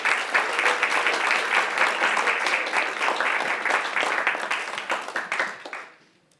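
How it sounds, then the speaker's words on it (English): Audience applause for Dr. Curry, a professor and speaker on racial equity, at a civil rights event: dense, steady clapping from a large crowd that holds for about five seconds, then thins out and dies away. "Give a round of applause for Dr."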